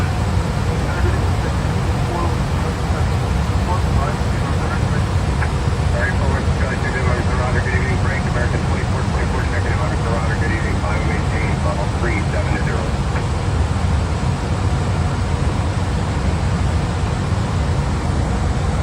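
Steady broadband engine roar inside an airplane cockpit in flight, a constant loud drone with a faint voice underneath at times.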